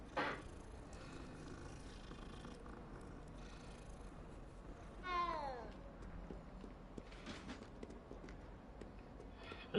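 A cat in the video game Hogwarts Legacy lets out a single rising meow near the middle, fairly quiet over a low ambient game background.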